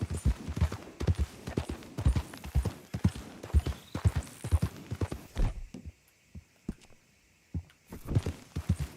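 Horse hooves clip-clop in the Red Dead Redemption 2 video game, a steady run of close, rhythmic hoofbeats that drops to sparser, quieter steps near the end.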